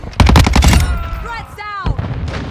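Gunfire in Call of Duty: a quick, loud burst of several automatic shots opens, then whistling and sweeping game effects follow, with a second, fainter bang later.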